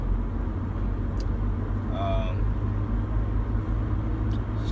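Road traffic surrounds a car stuck in a jam: a steady low engine and road rumble with faint passing vehicle sounds and a brief high squeal, continuous and moderately loud.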